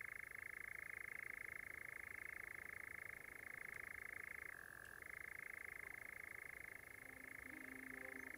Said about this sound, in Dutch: Ja, die nachtzwaluw.